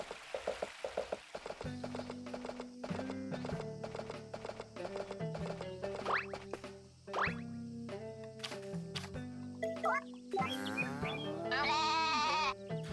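Sheep bleats from the video game Story of Seasons: A Wonderful Life repeat over rhythmic clip-clop hooves and chiming tones, with a louder burst of bleating near the end.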